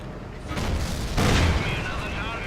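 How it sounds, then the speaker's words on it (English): Two heavy booming impacts, the second louder and deeper, roll out from World of Tanks artillery fire on a big tank, with a rumbling tail between and after the blasts. "artillery's going to range in on me"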